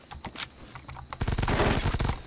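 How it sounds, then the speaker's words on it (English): K7 submachine gun in Phantom Forces firing in fast automatic bursts, a short burst then a longer sustained stream of rapid close shots, loud and dry with no talk. "maybe because it's a SMG and it just shoots really fast"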